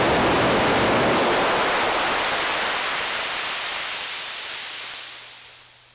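Bright, airy hiss of noise, loud at first, then gradually thinning and fading as the low end drops away, leaving a thin high sizzle.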